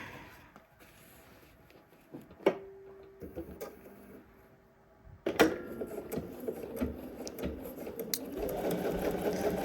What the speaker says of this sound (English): And sew the rest of the way up.